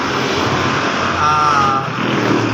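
Isuzu Highlander with a 4GE1 engine running during an engine tune-up, a loud, continuous close-up mechanical whir and hum with a faint whining tone partway through.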